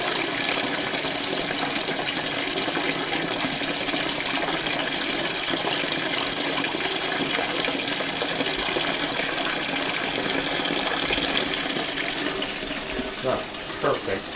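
A 1996 Maytag washing machine fills with water for a bleach cycle, producing a steady, close, continuous rush and splash of water that holds even throughout with no talking.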